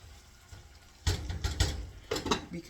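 A spoon stirs food around in a dish during a morning kitchen routine, with close, scraping clinks and knocks coming in uneven bursts.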